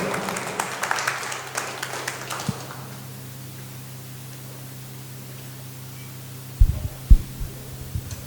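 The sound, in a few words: audience applause for a pastor taking the stage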